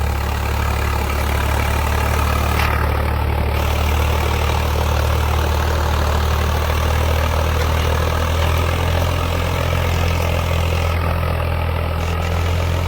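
A heavy diesel tractor engine drones steadily and loudly at full RPM with a deep, constant low rumble, running hard without pause.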